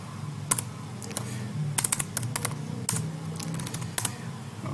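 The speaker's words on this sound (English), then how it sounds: "then just type MySQL dump -h local host" Computer keyboard typing of a MySQL dump backup command on a Linux terminal, with irregular bursts of crisp key clicks separated by short pauses, close and moderately quiet.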